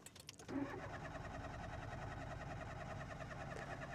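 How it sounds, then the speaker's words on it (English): A car engine cranks briefly and catches, then settles into a steady, close idle that runs to the end. "Turn the engine on."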